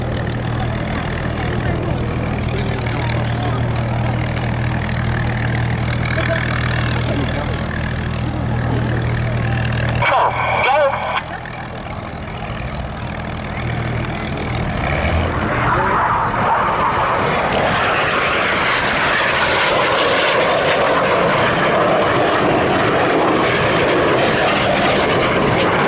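Red Arrows jets flying the Crossbow manoeuvre at an air show, a steady roar of jet engines that swells into a louder, broadband rush in the second half, with a commentator's voice over the noise.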